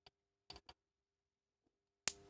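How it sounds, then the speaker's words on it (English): Metal scissors short across the terminals of a charged capacitor inside an LED lamp, a few faint handling clicks followed by one sharp, loud snap of a spark that rings off briefly. "maybe I'll just short it with a pair of scissors first"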